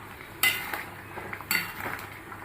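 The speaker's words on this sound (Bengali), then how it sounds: "কালো কড়াইতে রান্না করছি" A utensil scrapes and clinks against a black wok while egg and potato curry cooks. Two sharp metallic knocks stand out, with softer stirring scrapes between them over a faint simmer, close and fairly quiet.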